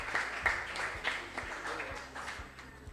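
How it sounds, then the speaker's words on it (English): Audience at a school quiz competition applauding with scattered, uneven claps, faint and somewhat distant, tapering off over a few seconds. "Please clap for them."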